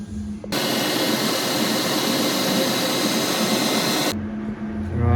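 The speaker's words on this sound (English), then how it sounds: "we'll go to the lathe and spin up a tool." A lathe spinning up to machine a tool in a workshop, a loud steady whirring roar that starts abruptly and cuts off after about four seconds.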